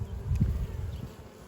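Honey bees humming low around an open hive with drone comb during an inspection, a soft, steady buzz close by with faint rustling and no talk.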